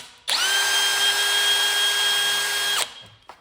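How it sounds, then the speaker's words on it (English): A power drill whines at high pitch for about two and a half seconds, drilling a hole in metal on a 1970 GMC 2500 truck, starting and stopping sharply, close and loud. "we're just gonna drill a hole right here just to stop the crack"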